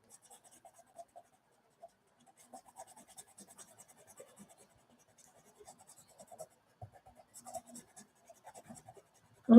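Colored pencils scratch across paper in short, quiet strokes, an irregular run of soft rasps with brief pauses, ending in a louder thump.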